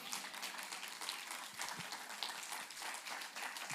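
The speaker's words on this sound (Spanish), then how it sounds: "Denle un aplauso al Señor." A church congregation at an evangelistic service applauds, giving a continuous patter of many hands clapping, heard faint and fairly distant.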